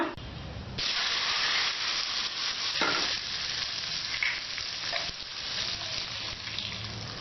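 Hot tempering with fenugreek powder and asafoetida is poured into instant lemon pickle, setting off a sudden loud sizzle that hisses steadily and fades slightly, with some stirring clinks.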